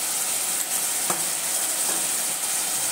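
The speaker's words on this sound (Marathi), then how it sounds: "हे आपण छान मिक्स करून घेऊया जेणेकरून आपले मसाले हे छान करपले जातील" Spices being mixed while they fry in a pan for a ridge gourd dish, a steady close sizzle with a few soft scrapes of the stirring spoon, no voices.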